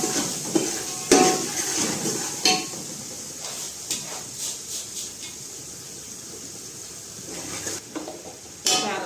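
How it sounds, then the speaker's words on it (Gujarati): Chopped green chillies sizzle in a pan, with scattered spoon scrapes and light metallic clinks against the pan over a faint, steady frying hiss. "બે બે ત્રણ મરચી કટિંગ કરીને આમાં નાખેલી છે બરાબર સરસ મજાને સાતળી દઈશું આપણે"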